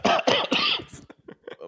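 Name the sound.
person coughing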